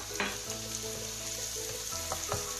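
Fried okra chips being stirred into masala in a pan, a steady close sizzle with scraping stirs and a few sharper clinks of the spoon against the pan, no voices.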